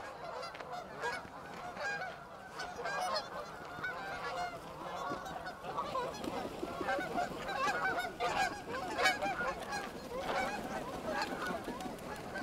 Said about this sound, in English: All these geese look like rocks out on the water